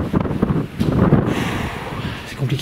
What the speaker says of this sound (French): Je crois que le vent va un peu se calmer.